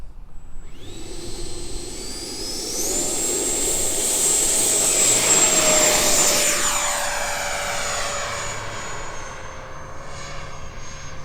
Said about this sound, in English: We're going to do a bunch of high-speed passes so we have it for review.